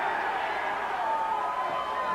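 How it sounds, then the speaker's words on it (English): A wrestling crowd cheers on wrestler Dr. Death at a UWF match, a steady, fairly faint arena roar with mixed voices that continues evenly throughout. "Fans cheering Dr. Death on."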